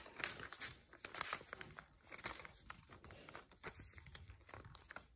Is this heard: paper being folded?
yes